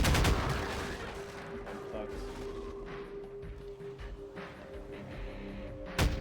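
Rapid bursts of enemy gunfire in Half-Life 2, dense crackling shots at the start that thin into scattered pops and a sharp loud shot near the end, with game ambience and a voice talking over it.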